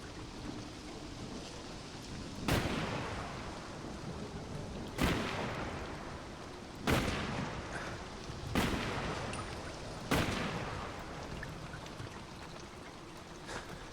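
Gunfire in Fallout 4 gameplay: five sharp, loud shots spaced a couple of seconds apart over a steady rushing rain-like background, with no talking.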